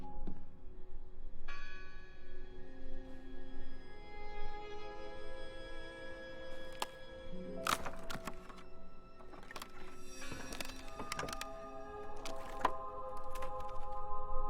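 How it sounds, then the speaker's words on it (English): Bell tolling in the Draugen video game, sustained ringing tones that linger and decay over quiet ambience, joined later by sharp cracking and creaking bursts as the ringing continues. "I heard the bell."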